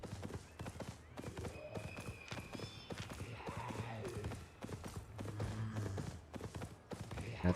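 Horse hooves clip-clop steadily in an online PvP video game, a galloping mount's rhythmic footfalls running throughout at moderate loudness amid game effects.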